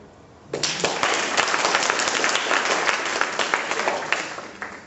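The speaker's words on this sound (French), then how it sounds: "On peut l'applaudir." A burst of clapping from a conference audience starts suddenly and carries on steadily for several seconds, fairly close, then begins to thin out.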